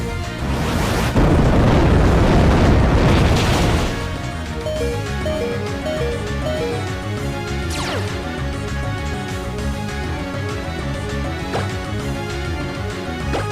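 A loud booming eruption attack blast in Pokemon Omega Ruby rumbles for a few seconds, then gives way to busy layered game music and effects that carry on steadily.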